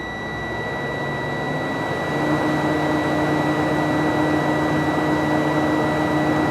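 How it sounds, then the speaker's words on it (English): A Class B truck's engine is held at raised revs to build air pressure in the air tanks, giving a steady, loud mechanical drone with whining tones that rises slightly in pitch partway through and holds without talk. "What I will do to assist the air is hold down my accelerator to around 10 to 15 RPM to build the air quicker on my air tanks."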